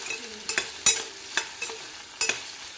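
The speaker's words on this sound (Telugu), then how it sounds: "ఆనియన్స్ ఇలా కలుపుకుంటూ ఉండాలండి, కలుపుకోకపోతే కింద అడిగంటి మాడిపోతూ ఉంటాయండి" Sliced onions fry in a pan for a mango and sweet potato curry, with a steady soft sizzle broken by sharp scraping clicks of a spoon stirring them, several distinct strokes, close by and with no talk.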